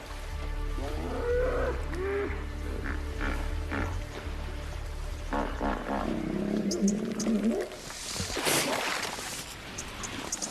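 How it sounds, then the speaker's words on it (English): Wild hippos give deep, resonant bellows and grunting honks in a rising chorus, loud and rough, with a burst of splashy noise near the end. "They check in with thunderous bellows, audible from almost 2 kilometers away."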